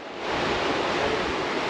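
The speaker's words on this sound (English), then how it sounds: "That water is flowing." Flowing water outdoors in Turkey, a steady, close rush of broadband roar that swells in during the first moment and then holds loud and even, with no voices.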